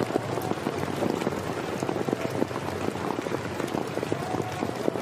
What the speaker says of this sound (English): Hailstorms on the Highveld.